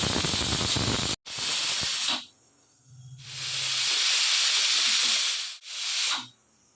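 Bursts of loud, broad hissing steam from a pressure cooker whistle cooking black chickpeas and pumpkin come and go, each lasting a second or two, with brief quiet gaps and a low hum between them.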